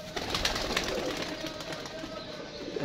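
Pigeons in a loft coo continuously at close range, soft overlapping calls over a busy background with occasional wing rustles, no speech.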